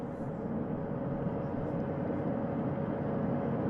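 Helicopter hovering over the sea during an astronaut hoist recovery, a steady, dense rotor and engine drone holding at constant loudness throughout with no talk.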